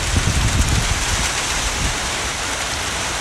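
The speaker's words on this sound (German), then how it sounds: "es regnet noch gemächlich, aber ihr seht ja die Baumbewegung" Light monsoon rain in Thailand patters continuously, a dense hiss of falling drops with low gusty rumbles of wind underneath, fairly close and steady throughout.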